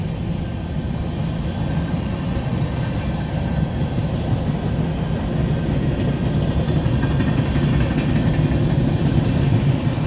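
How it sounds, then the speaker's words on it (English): An eastbound tillage freight train rolls past near Ashland, Fremont or Omaha, a steady loud rumble of engine and rail cars sustained throughout, close by with no voices. "This is the tillage trains heading east."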